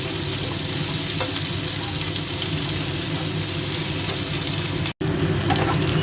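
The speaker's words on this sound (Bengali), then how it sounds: "পেঁয়াজটা দিয়ে দিলাম। পেঁয়াজগুলো একটু লাল লাল ভাজা হবে।" Onions sizzle in a pan with potatoes, a loud, steady frying crackle that runs throughout with one brief dropout near the end; no one speaks.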